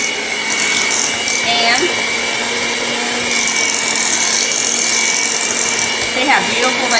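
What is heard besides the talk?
mixing cooked potatoes for homemade mashed potatoes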